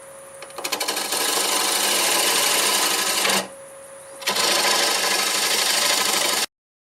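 A wood lathe spins a wet cherry bowl blank at 700 RPM as a tool cuts it, making a loud, dense, rasping roar. The noise breaks off briefly midway and then resumes before stopping abruptly.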